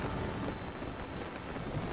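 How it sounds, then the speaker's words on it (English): Heavy rain falling in the video game Tears of the Kingdom, a steady dense hiss with low rumbling underneath, fairly quiet and continuous. "it's raining hard as hell for no apparent reason"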